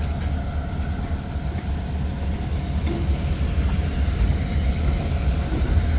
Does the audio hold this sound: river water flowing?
no